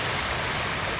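Water flows in a stream in Ghost of Tsushima, heard as a steady, close, broadband rushing hiss that stays even throughout the brief moment.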